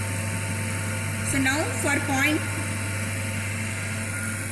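A DC shunt motor runs at constant speed on a lab test bench, giving a steady low electrical hum throughout. Someone speaks briefly over it.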